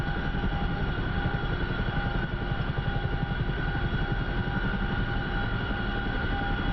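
Boeing CH-47F Chinook tandem-rotor helicopter in flight in the DCS simulator, a continuous droning engine and rotor roar with steady rapid blade thump, constant and unbroken.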